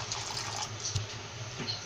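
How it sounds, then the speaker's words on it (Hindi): Water is poured into a hot pan of spiced yogurt for beef and potato kofta, making a brief rushing splash over a steady sizzle, close and moderately loud. "ये थोड़ा सा इसमें हम पानी डाल देंगे,"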